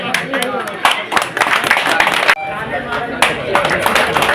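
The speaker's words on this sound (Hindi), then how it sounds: "जब सम्मान हो तो ताली बजना चाहिए।" An audience at a political rally for the RJD party claps in uneven bursts, the loose applause rising and falling and briefly cutting out midway, mixed with voices.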